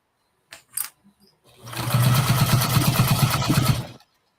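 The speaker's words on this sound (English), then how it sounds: "I'm going to just stitch this up all the way around." A Juki TL sewing machine stitches fabric around a bucket hat seam, running in a fast steady mechanical whir for about two seconds after a few brief handling clicks.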